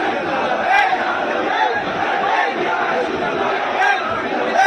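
A large crowd gathered in support of Mufti Salman Azhari surges and murmurs loudly, a broad continuous din of many voices with occasional shouted swells rising above the mass.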